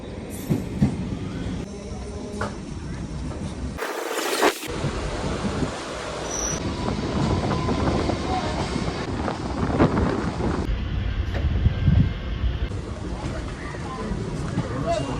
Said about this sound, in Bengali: এই ঢুকছে বনগা লোকাল।